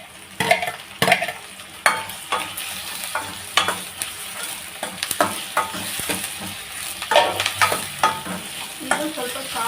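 Tomatoes stirred in a frying pan for a tomato and potato curry: close, irregular scraping and clacking strokes over a soft, steady sizzle, with no talking.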